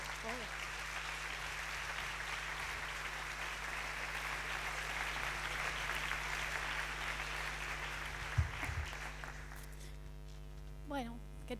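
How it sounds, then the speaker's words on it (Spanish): An audience at a talk applauds for the speaker, a dense wash of clapping over a steady low electrical hum that fades out toward the end, with a few thumps and brief noises after. "un fuerte aplauso para la mundialmente conocida en Twitter como Ciencia con Arte"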